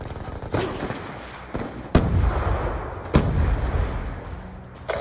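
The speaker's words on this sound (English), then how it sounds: "Throwing grenade!" Explosions and gunfire in a Call of Duty match on the Nuketown map, with a grenade blast among several sharp booming bursts at roughly one-second intervals over a steady rumble of battle noise.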